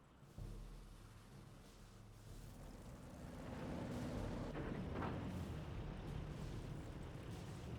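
Artillery fire in the Company of Heroes 1 video game: deep, rumbling booms that swell and linger in a continuous low roar, moderately loud and heard alone without any talk.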